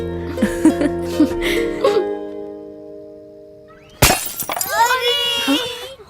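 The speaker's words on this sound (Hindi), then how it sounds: "फिर से कांच तोड़ दिया तुम लोगों ने।" A glass window pane shatters after being hit by a ball, one sudden loud crash followed by tinkling shards, preceded by household talk and then an upset voice right after.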